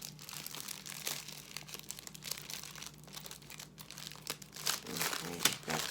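A plastic gift bag is tied off by hand, making close, continuous crinkling and rustling with brief crunchy peaks.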